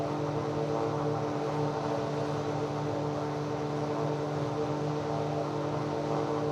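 Steady, droning engine hum of an Aeroprakt A-22 ultralight aircraft cruising in a flight simulator, a constant close buzz with no variation and no voices.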